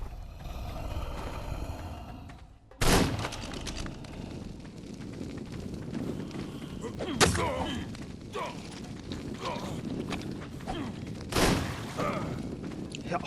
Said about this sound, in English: Someone was shooting at me.